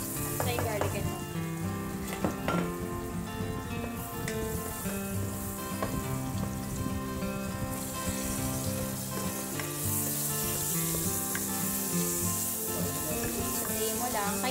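Garlic and onion fry in a large pot with a loud, dense, continuous sizzle. Occasional stirring clatter sounds close by, with no pauses.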